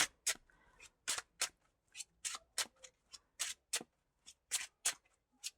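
A deck of cards being shuffled repeatedly, a run of crisp riffling bursts in a quick uneven rhythm, close and clear against a quiet room.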